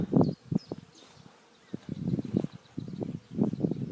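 A crowd of bees buzzes around a nearby apiary, a busy, uneven hum with individual insects flying close by in bursts, then easing before swelling again, with no speech.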